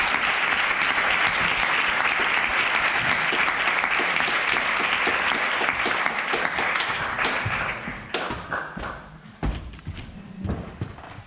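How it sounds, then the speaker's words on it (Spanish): Audience applauding at a photography event, sustained dense clapping that thins into scattered claps and a few thuds toward the end. "os pido un fuerte aplauso para darle el ánimo."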